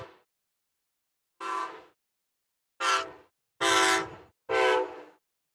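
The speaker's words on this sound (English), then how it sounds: "I think that was Amtrak" An Amtrak train sounds its horn in a series of loud, sustained blasts: one trailing off at the start, then four more after a pause, the last three coming close together, with silence between.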